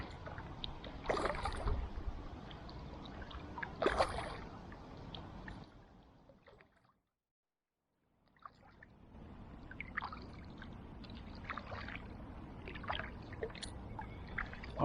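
A long kayak paddled solo on a river gives soft, rhythmic splashes and water trickles, near and quiet, with a brief silent gap partway through.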